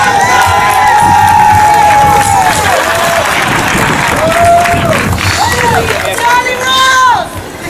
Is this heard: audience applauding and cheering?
yes